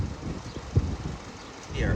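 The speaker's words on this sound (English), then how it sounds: "It's windy." Wind buffets the microphone on a rainy day in a small Illinois town along Route 66, a low rumbling gusty roar that swells and eases without a break.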